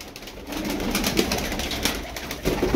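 Tumbler pigeons cooing inside a coop, soft repeated throaty coos from several birds at close range, rising and falling in short bursts over a faint rustling background.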